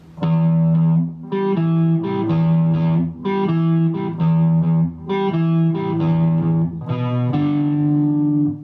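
A distorted electric guitar plays a chunky, repeating riff in short phrases with brief gaps, loud and close, sustained notes ringing under the figure.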